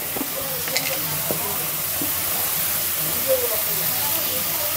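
Ginger garlic paste and spices frying in a pan, a low, steady sizzle with a few faint clinks and scrapes of stirring running through the whole stretch.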